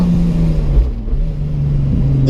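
A race car on a track holds a loud, steady engine drone that dips briefly, then climbs again under acceleration toward the end.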